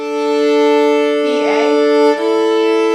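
A bowed string double stop with F natural rings out steadily, with a brief scratchy rasp of bow noise partway through.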